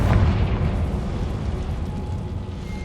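A Confringo explosion spell cast in Hogwarts Legacy, a heavy low boom that hits at once and then rumbles and fades over a few seconds, loud and close.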